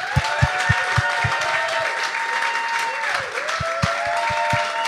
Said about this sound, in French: bonne main d'applaudissements pour Rolly Assal et Noman Osni.